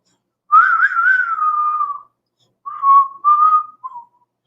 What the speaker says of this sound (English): I can't whistle good with these braces.